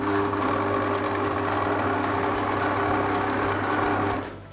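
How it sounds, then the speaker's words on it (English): An electric whisk whirs steadily and close up, mixing cheese into cookie dough with a continuous motorized buzz before cutting off at the end. "So my cheese goes in and I'm going to whisk it again."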